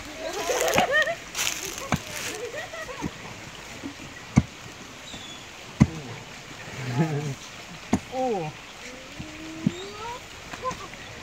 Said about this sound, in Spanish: Ahí las niñas están jalando agua para hacer ese